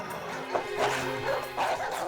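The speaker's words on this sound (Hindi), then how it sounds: "सर वहाँ दो बीमार कुत्ते हैं सर" Two sick dogs bark and yelp behind a curtain at a market, a few close, rough bow-wow barks with whimpering tones over a low background hum, and no one talking.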